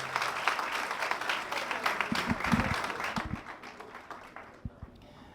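Audience applause and acclaim for a woman called to the stage at a March 8 event, a rustling wash of clapping with scattered louder claps and a few thumps, tapering off toward the end.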